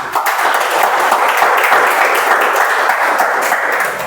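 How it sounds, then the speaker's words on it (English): Applause at a Toastmasters club meeting as a Toastmaster is welcomed, a loud, steady burst of clapping from a roomful of people, sustained and even for several seconds. "Let's give a huge round of applause to Toastmaster Vipul"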